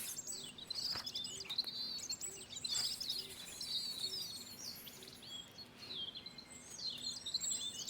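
Robins singing in a garden in Botany Manor: several birds chirp and twitter continuously in high bright phrases over soft ambient noise, moderately faint.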